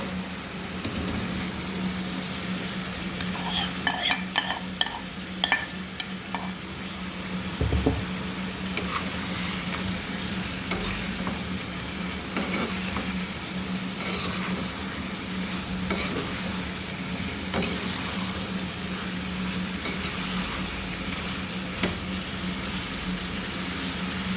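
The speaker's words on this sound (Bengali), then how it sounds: "এখন আমি সব ভাজা চিকেন সবজি সব দিয়ে দেবো এখানে।" Fried chicken and vegetables are tossed into a pan of spiced masala for a chicken vegetable stew, giving a steady sizzle with scattered scraping stirs, loudest in the first few seconds, close and without talk.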